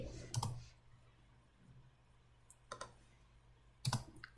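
A computer keyboard tapped in short bursts while someone enters values into a table, a few soft clicks and then a firmer keystroke for Enter, quiet and close with a low hum underneath.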